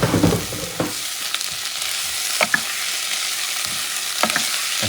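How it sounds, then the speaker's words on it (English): Meat with its fat and juices sizzles steadily in a hot pan for Puerto Rican habichuelas, with a few scraping stirs from a utensil breaking through the constant close hiss, and no talking. "start adding the meat. Including the fat and add those juices."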